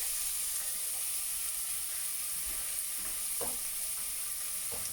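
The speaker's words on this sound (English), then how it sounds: "Right, put some oil in, and that's now hot. So in go the onions." Onions hit hot oil in a pan for broad beans and bacon, giving a loud, steady, close hiss and sizzle that holds evenly throughout with only faint crackles, and no voices.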